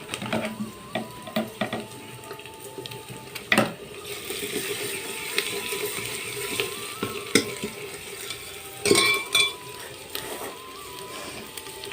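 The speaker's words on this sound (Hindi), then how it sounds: "अब इसको थोड़ी देर भून लेते हैं। तो हल्दी डालती हूँ।" Spices and badi roasting in a pan on a home stove, with a soft continuous sizzle, scattered scraping stirs and a few sharp clinks of a spoon against the pan.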